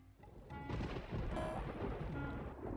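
Thunder rolls in a deep, sustained rumble that swells after a quiet start and stays loud and broad for a couple of seconds.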